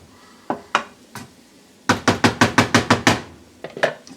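Knife chopping through an injected pork loin on a board: a few scattered cuts, then a quick run of about eight even, sharp strokes, then a few more, close and clear with no talking.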